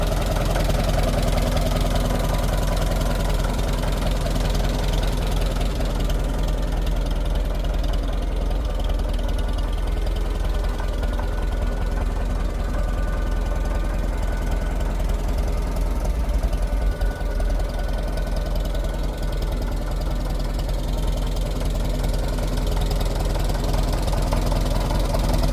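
A restored 1958 Farmall 450 tractor engine runs smoothly nearby, a loud, continuous throbbing idle that stays even for the whole stretch, with no voices over it.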